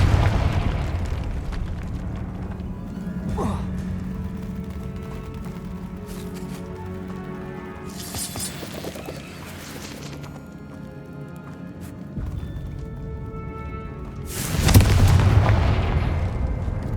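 Blasts of the Confringo fire spell in the video game Hogwarts Legacy, a few bursts of explosive noise spaced apart over ambient game sound, the last one the loudest and fullest near the end.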